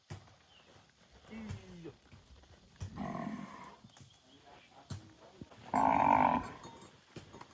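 Buffaloes heading toward the jungle, with a few low moos, one loud and drawn-out near the end, amid hoof shuffles and someone talking in the background.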